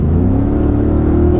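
Ford Raptor truck in sport mode, its engine accelerating with a loud, steady low rumble and rising harmonic drone, close up and without talk.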